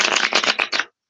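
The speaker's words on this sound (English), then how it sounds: "Is you could literally fully shuffle a deck of cards," A deck of playing cards being fully shuffled by hand, heard as a quick run of crisp riffling bursts lasting under a second, close and clear, then silence.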